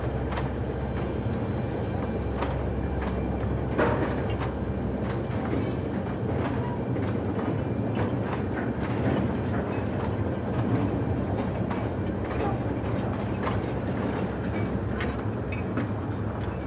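Empty wagons of a 600mm gauge mineral railway at the Diaberswerk Saalfelden quarry lurch along, rumbling steadily with irregular clanking and wheel clatter throughout, moderately close and without voices.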